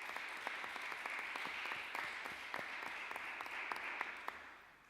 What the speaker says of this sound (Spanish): Un aplauso muy importante para él